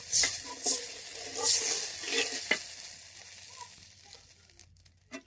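Spice paste is stirred in a pan for a village-style curry of bottle gourd, potato and tilapia fish, with a few short scraping sizzles that fade, then quiet, faint background sounds.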